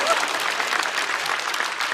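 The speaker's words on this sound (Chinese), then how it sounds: "可以鼓掌" A live audience at a Chinese stand-up comedy show claps loudly and warmly, a dense, even burst of applause filling the room for about two seconds.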